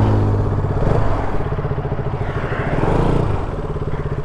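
A KTM RC200 motorcycle riding along a road, its mid-pitched engine droning steadily and close, with a swell of revving partway through and no voices.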